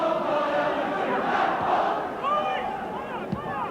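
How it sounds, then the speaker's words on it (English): A football crowd fills the stadium before a Celtic v Dundee United Scottish Premier Division match in 1987, a steady, broad roar of many voices with a few faint whistles and calls rising from it. "Crowd still coming in"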